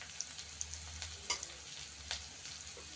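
Curry leaves sizzling and crackling in hot oil for a tempering for curd vada, a soft steady fry with small pops and occasional stirring, close and moderately quiet with no talk.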